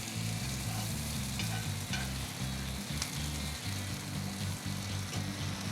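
Steak sears in a hot pan in a steakhouse kitchen, giving a loud, steady sizzle and crackle with a low pulsing rumble underneath, close up and without talk.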